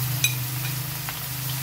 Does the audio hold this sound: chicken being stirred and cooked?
yes